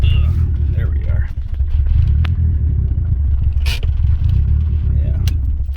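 A turbocharged Honda Integra engine idles steadily after a startup, two years after it sat unused, with a loud, continuous low rumble and small uneven bursts. Voices are faint at a few points.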